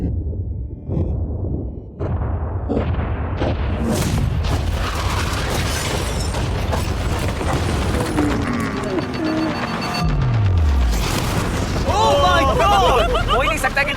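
A yacht is blown up after a countdown, giving a loud, sustained boom and rumble with whooshing debris and mechanical clatter over about fourteen seconds, with a falling tone near the end and crowd-like noise underneath.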